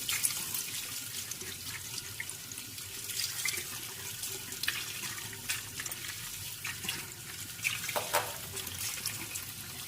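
Steady running tap water splashes over a farm-fresh watermelon as it is washed in a sink, a continuous close hiss with small irregular splatters and drips throughout.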